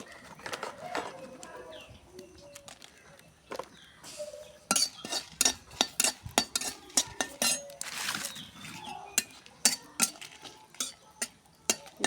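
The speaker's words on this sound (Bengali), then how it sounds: "এখন আমি কড়াইটা তুলে দিলাম, শুকনো মরিচ দিব, ভাজে নিব আগে" Dry red chillies dry-roasted in a wok before any oil is added, with sharp metallic scrapes and clinks from stirring in irregular bursts, close and moderately loud, and birds chirping faintly in the background.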